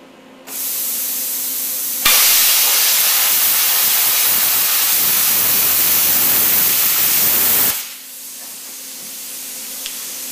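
Plasma cutter cuts a circle hole guided by a stencil template, starting with a low hum, then a loud, steady roaring hiss of the arc lasting about six seconds before it cuts off back to the quiet hum.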